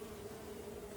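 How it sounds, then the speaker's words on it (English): Bees buzzing inside a hive, a dense, steady, low drone that fills the moment without a break, close and fairly soft. "Inside, looks like there's plenty of bees."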